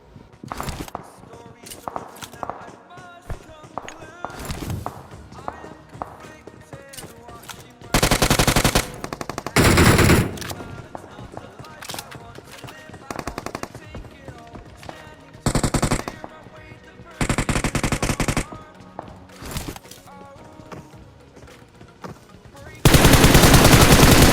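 BGMI battle royale gameplay with rapid automatic gunfire in short bursts and sustained loud volleys, plus scattered single shots and footsteps between them.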